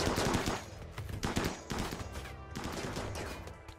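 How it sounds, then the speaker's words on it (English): Automated turrets in a video game fire rapid bursts at attackers, a stuttering run of repeated gunshots in several clusters, fairly loud and up close. "let's turn the turrets on"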